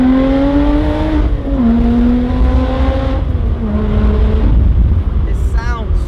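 Alfa Romeo 4C Spider engine pulling hard, its loud, rising note climbing through a gear change and a second upshift, with a brief whine near the end.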